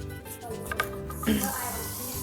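Hands are washed under a running kitchen tap while making guacamole. Water splashes briefly and unevenly for about two seconds, up close and fairly quiet.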